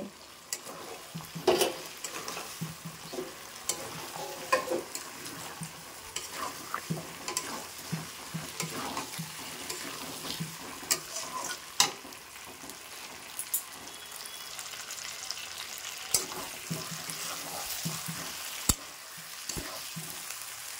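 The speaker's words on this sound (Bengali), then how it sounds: "তো আমি কিন্তু দুটো একসাথে দিয়ে কষিয়ে নেব" Chicken and potato pieces fry together in a pan, with a steady crackling sizzle and frequent clinks and scrapes of stirring all the way through, fairly close and with no talking.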